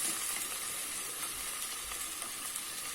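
Tomatoes frying in a pan for a crab gravy, giving a steady, even sizzle that holds up close and fairly loud for the whole stretch, with no talking over it.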